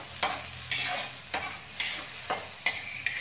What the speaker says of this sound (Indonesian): Aduk-aduk.